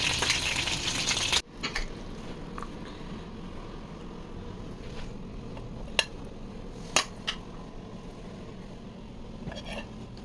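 Chicken frying in a pan keeps up a steady, moderate sizzle, with occasional sharp pops and clicks, after a louder burst of hissing at the start.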